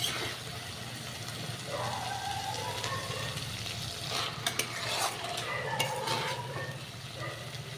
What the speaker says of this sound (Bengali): দেখো বন্ধুরা, প্রায় হয়ে গেছে মশলা কষানো